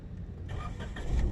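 A 2018 Suzuki Cultus with a check-engine light and a misfiring engine cranks and catches, its low rumble swelling into a rough, uneven idle that grows louder toward the end.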